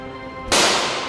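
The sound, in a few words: gunfire behind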